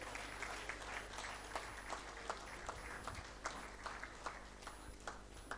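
Scattered clapping rises from a meeting audience at an annual general meeting of a medical association, individual sharp claps standing out over a low hum in a fairly quiet room.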